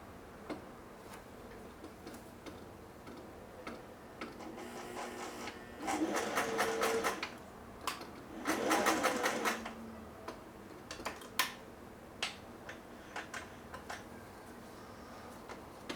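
A Singer 401A sewing machine ticks softly through a few slow stitches, then runs in two short rapid bursts of stitching, followed by scattered isolated clicks.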